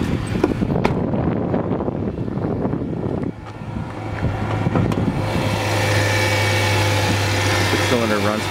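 A 2003 Hyundai Santa Fe LX with an automatic V6 runs steadily with a low, even hum. Broadband rumble and wind-like noise sit over it, and the sound grows denser and steadier in the second half.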